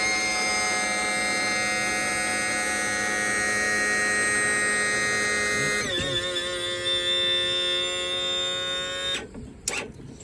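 A Yamaha F300 4.2L outboard's trim motor runs with a steady electric whine and hum, shifting pitch partway through as the engine lifts, then cuts off near the end with a couple of faint clicks.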